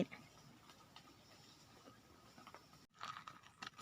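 A water buffalo grazes on legume grass outdoors near a reservoir, giving quiet, irregular crunching bites and chewing, faint and close, with brief pauses between mouthfuls.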